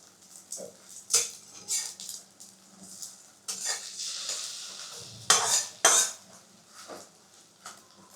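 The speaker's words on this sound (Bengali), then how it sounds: "ডিম ভাজা প্রায় হয়ে গেছে" An egg fries in a pan, its sizzle rising in intermittent bursts while a spatula scrapes and taps against the metal, close and fairly loud, with no speech.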